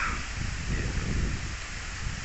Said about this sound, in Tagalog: Lakas ang hangin, sarap magsaranggola, oh